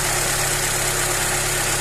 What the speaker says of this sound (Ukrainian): Викручуємо до стабільних обертів. Йдуть стабільні оберти.